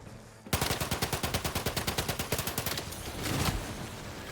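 Rapid automatic gunfire from a favorite gun in Outer Worlds 2, a steady burst of about twenty close, loud shots in quick rhythm, then trailing into a noisier rumble as the firing fades.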